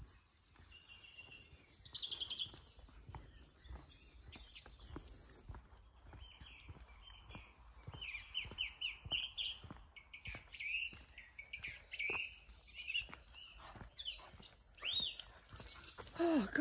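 Outdoor birdsong on a rural East Devon walk: repeated trilling chirps and tweets from several birds, moderately near, over soft footsteps and low background noise throughout.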